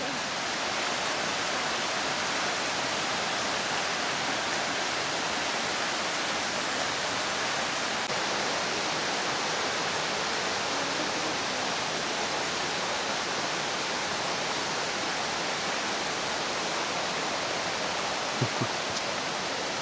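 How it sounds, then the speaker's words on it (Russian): A clear mountain river, the Kokkozka in Crimea near Ai-Petri, rushes close by in a loud, unbroken broadband roar of flowing water that holds steady throughout. "Чистейшая горная речка."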